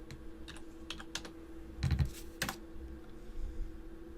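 Scattered keystrokes on a computer keyboard as a folder name is typed, a few soft clicks early on, then a denser burst of taps in the middle and a few more after, all close and fairly quiet with no talking.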